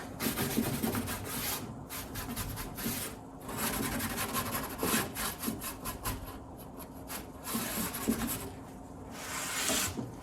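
A cloth or sponge rubs back and forth over a glazed piece, wiping off excess glaze in repeated soft scratchy strokes with short pauses, close and fairly quiet.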